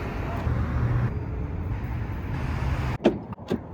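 A car passes on a city street in Miami during an evening outing, steady low road rumble and traffic noise, with a couple of sharp door or body clunks near the end.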